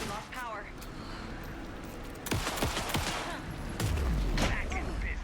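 Gunfire in the video game Alan Wake II, bursts of rapid shots that swell midway and grow heavier toward the end, with a low rumbling hit and game voices sounding beneath.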